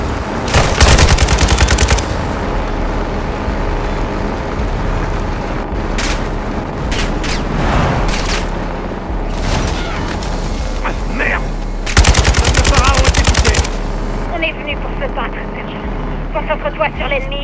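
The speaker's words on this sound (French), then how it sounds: "Une mitrailleuse devant toi." Call of Duty Modern Warfare 2 combat with loud, close machine gun bursts in several long stretches, mixed with scattered single shots and explosions amid constant battlefield noise.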